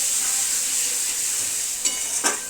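Melted sugar stirred in a pan while cooking meat curry, a steady close sizzle with a few brief scraping stirs near the end.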